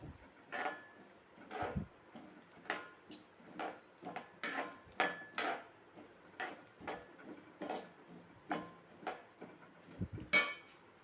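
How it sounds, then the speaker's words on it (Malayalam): Rice grains dry roasting in a pan with asafoetida crackle and pop in small clustered bursts, sharp clicks and ticks repeating irregularly every half second or so, close and fairly quiet with no talk. "അരിയൊക്കെ നന്നായി പൊട്ടി വരാനായിട്ടുണ്ട് പൊട്ടി പൊട്ടി വരുന്നുണ്ട്"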